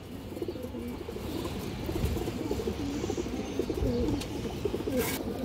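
A khora-necked female pigeon, one of a pair of old birds, coos in a low, repeated rumbling pattern that runs steadily throughout, close by and moderately loud over faint background noise.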